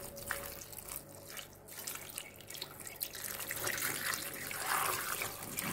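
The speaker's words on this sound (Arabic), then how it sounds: "غادي ندير عليه الماء ونخليه يرطب." Water is poured over sugar in a pot to make homemade honey syrup, a faint steady trickle and splash with soft drips, close and alone.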